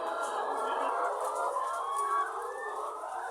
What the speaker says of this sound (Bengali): লেয়ার মুরগির ডিমের খামারে আসছি